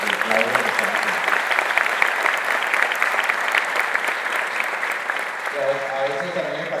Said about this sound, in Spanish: Un aplauso a James y Claudia que están aquí.